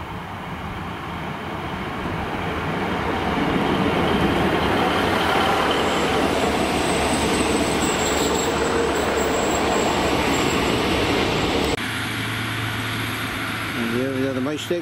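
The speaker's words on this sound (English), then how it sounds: "Here we are approaching us now, the Mayflower train heading for" A passenger train rumbles steadily closer as it approaches a station, its broad roar building and holding, then shifting to a lower rumble with a faint squeal of wheels near the end.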